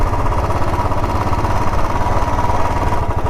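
A motorbike engine chugs steadily and loudly while riding off-road on a sandy track, a continuous rough mid-pitched drone close by with no speech.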